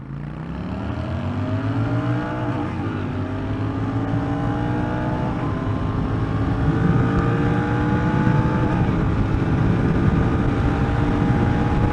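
A 2020 Royal Enfield Continental GT motorcycle accelerates hard, its engine note climbing steadily through the gears in a loud, continuous drone with rising tones and wind rush, close by and without voices.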